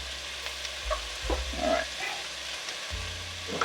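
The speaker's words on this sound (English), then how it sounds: "I am going to take the onion and drop it in" Onion dropped into olive oil in a pot, with a soft sizzle and stirring scrapes, close but quiet, with a brief spoken word near the start.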